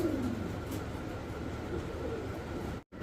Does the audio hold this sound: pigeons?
yes